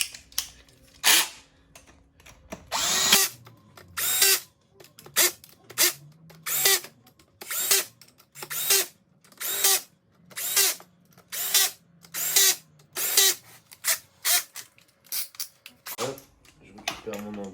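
A power drill drives screws on a two-stroke Kawasaki KX125 engine in quick repeated short bursts, a dozen or so loud whirring pulses in a steady rhythm, with someone speaking French between them.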